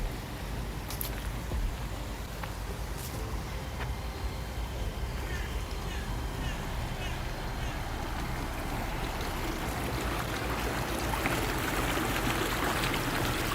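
Water from a river beside Blutenburg castle rushes steadily as a soft, continuous broadband wash, fairly faint, with a voice speaking at times over it.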